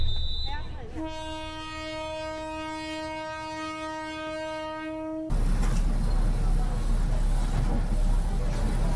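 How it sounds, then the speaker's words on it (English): A train in Thailand runs straight through a marketplace: a loud sustained horn blast carries for several seconds, then the heavy, close roar of the passing cars takes over. "There's a train in Thailand that goes straight through a marketplace."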